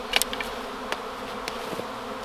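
A swarm of honey bees high in the trees gives a steady, dense buzz, with a few brief sharper clicks and rustles scattered through it and no talking.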